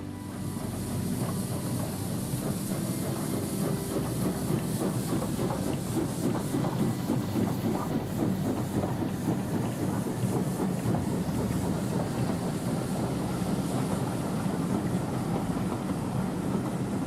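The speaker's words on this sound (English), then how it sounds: "ready the loco and head off to pick up the train" A model railway locomotive pulling a train rumbles continuously with a rhythmic clickety-clack of wheels on rails, steady and moderately loud throughout, no voices.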